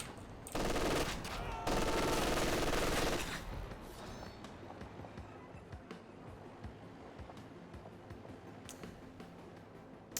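Rapid, dense MG42 machine gun fire in a World War II strategy game replay, a loud sustained burst in two bursts early on, then fading into distant battlefield crackle and scattered shots.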